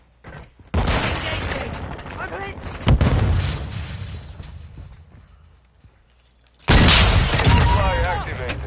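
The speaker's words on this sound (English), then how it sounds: "Throwing flash grenade!" Video game combat with a flash grenade blast and gunfire: two loud, dense bursts of explosive crackle separated by a quieter stretch, with someone talking between them.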